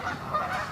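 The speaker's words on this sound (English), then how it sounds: "Look at all those geese." Geese honking outdoors on a walk, a brief burst of overlapping nasal honks from a flock at moderate distance, with no talk.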